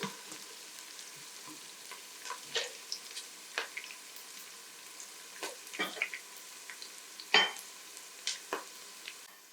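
Chopped onion fries to golden in a pan, crackling and sizzling softly with scattered pops and stirring scrapes, close and fairly quiet.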